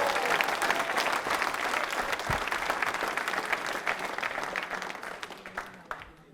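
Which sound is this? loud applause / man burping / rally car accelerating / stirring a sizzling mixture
loud applause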